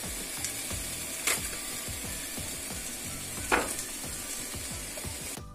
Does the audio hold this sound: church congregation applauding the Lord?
no